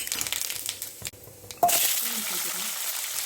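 Mustard seeds dropped into hot oil for a Tamil sundakai poriyal, giving a sudden bright crackle and spluttering sizzle that starts partway through and continues steadily, with faint kitchen sounds before it and no speech.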